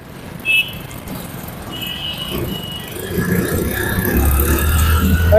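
A hydraulic dumping motorcycle trolley driven in reverse and forward, its engine whirring and rising in loudness with brief high squeals, fairly close, no speech.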